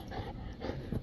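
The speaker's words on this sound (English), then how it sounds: "you're a funny little dog" A small dog pants in quick, steady, soft breaths close by, unbroken across the moment, with no other sound over it.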